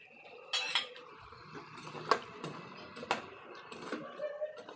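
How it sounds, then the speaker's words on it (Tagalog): Carrots and potatoes drop into a cooking pot while home-style stew cooks, giving several clattering knocks of vegetables and utensil against metal, close and moderately loud, with faint kitchen background. "At ilalagay na natin ang, ayan, carrots at patatas."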